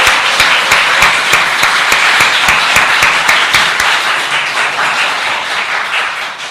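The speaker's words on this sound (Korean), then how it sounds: "박수로서 감사 표할까요?" A church congregation gives a loud, steady round of applause in thanks during a Sunday service, dense clapping that continues throughout and tapers slightly toward the end.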